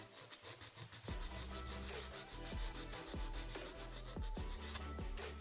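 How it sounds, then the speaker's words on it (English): Acrylic nail tip being filed straight across into a square coffin shape, a steady close scratchy rasp repeating in short strokes with low thumps from handling, no talking. "We're going to hold the nail securely and file straight across and square off the tip."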